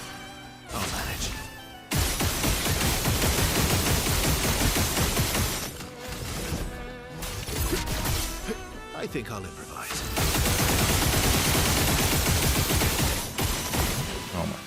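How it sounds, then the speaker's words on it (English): Rapid bursts of video game gunfire and crashing impacts, loud and dense, layered with game music and a person speaking briefly. "Oh my god. That's a lot of gunshots."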